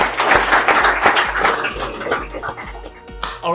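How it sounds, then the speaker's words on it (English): Audience clapping at a live artist coaching session, a dense, fairly close round of applause with some cheering that thins out toward the end. "clap it up for Joost"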